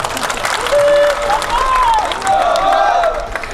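A crowd at a Holi gathering claps steadily in loud, close applause, while a voice speaks and rises over it.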